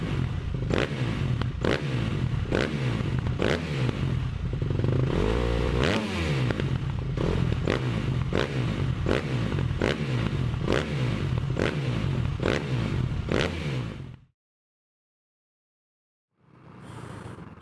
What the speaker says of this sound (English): I am just out exploring today on the Honda CRF250L.